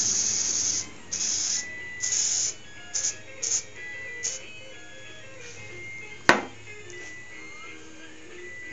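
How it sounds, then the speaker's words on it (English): Several short hissing bursts of spray adhesive onto a drum sanding wheel, a few longer and some quick puffs, followed by a sharp clack and quieter handling noise. "apply some spray adhesive"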